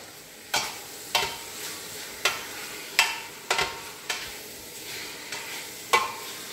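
Beef browning in a pan for bourguignon, a soft sizzle broken by about ten sharp scraping stirs of a utensil at irregular intervals, close up and with no speech.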